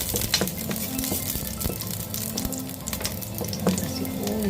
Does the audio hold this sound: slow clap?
no